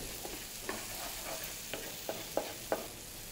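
Mushroom sauce simmers on a grill pan, giving a low, soft sizzle broken by a few sharp taps and scrapes of a stirring utensil, with no voices.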